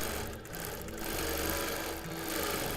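Sewing machine free-motion quilting a Christmas table runner, a rapid continuous mechanical whirring and needle clatter up close, with slight dips in speed, no voices.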